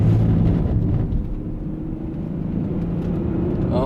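A Ford Fairlane AU limousine driving on the Nürburgring, its engine a steady low rumble from inside the cabin, loud and continuous without variation.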